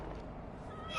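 A cat in a room lets out a short meow at the very end, rising in pitch against a faint quiet background.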